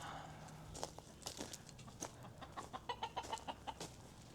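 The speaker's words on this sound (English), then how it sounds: "You're a good rooster." A rooster clucks softly, first a few scattered calls, then a quick run of short clucks, faint against light background rustling.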